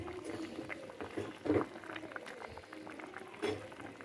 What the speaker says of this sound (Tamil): மண் சட்டி வந்து ரொம்ப நேரம் கொதிக்கும்